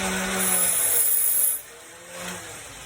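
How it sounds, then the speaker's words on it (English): A power tool cuts quickly through a metal truck axle, a harsh, loud grinding burst of about a second and a half that drops away, then a shorter, softer pass follows. "Let me zip around and just cut it real quick."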